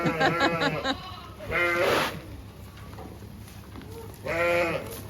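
Ewes bleat at a sheepfold in Montrodat. Several loud, wavering calls come close by in bursts, with quieter bleats from the flock between them.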